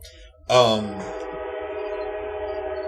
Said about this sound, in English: Train is insidious tonight